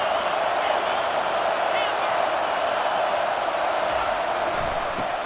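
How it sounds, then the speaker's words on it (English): A loud football stadium crowd roars to help its defense at Oregon versus South Carolina, a dense, continuous wall of crowd noise under a commentator's talk. "It is getting loud as this crowd tries to help its defense."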